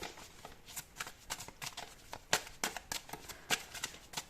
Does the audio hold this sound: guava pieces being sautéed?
no